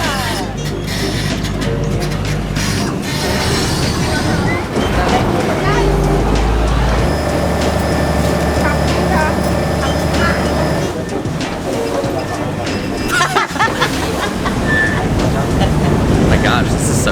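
A loud, steady engine drones throughout with rushing water and wind noise, a motorboat moving fast along a river in Thailand.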